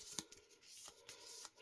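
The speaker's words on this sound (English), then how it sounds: "Shuffle them quickly" Cardboard garden tiles from the board game The White Castle shuffled quickly by hand, soft papery riffles and taps in short irregular bursts, quiet and close with no talking.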